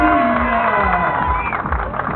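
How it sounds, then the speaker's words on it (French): Crowd cheering and applauding at the prize ceremony of a 5 km road race, loud and close, with whoops and shouts over steady clapping. "Allez, vos applaudissements, faut faire beaucoup de bruit ici."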